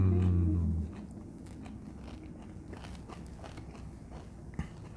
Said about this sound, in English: You might be able to hear how crunchy it is.